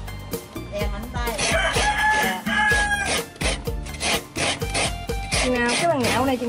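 Coconut flesh grated by hand on a metal grater, a steady rough rasping scrape repeated in quick strokes, loud and close, continuing without pause.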